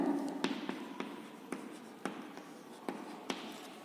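Chalk or marker tapping and scratching on a classroom board, a string of light, quick, irregular strokes close by and fairly quiet, with no talking.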